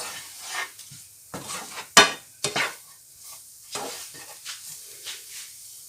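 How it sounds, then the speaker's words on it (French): Flour stirred into shallots in a pan for sausages in rabbit-style sauce, a soft sizzle under scraping spoon strokes, with a couple of sharp utensil knocks against the pan. "bien imbiber la farine sur les échalotes"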